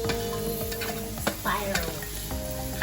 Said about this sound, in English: So now I'm going to be adding the zucchini